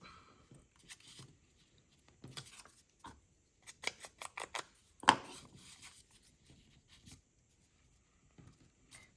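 Paper for a junk journal is cut with scissors in quick, crisp snips, clustered in short bursts with quiet gaps between, close and clear in a calm room, with no talking.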